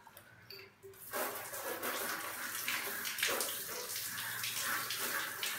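A water filter is rinsed by hand under running water: after a brief quiet start, a steady splashing rush of tap water pours close by, with squishy handling sounds mixed in.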